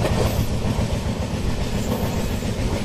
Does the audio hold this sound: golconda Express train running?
yes